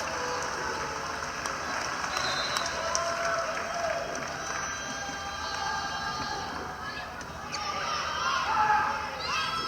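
Crowd at a Stanford versus Boston College women's volleyball match at set point, a broad sustained roar of cheering and scattered applause filling the arena, with a commentator's voice faintly underneath.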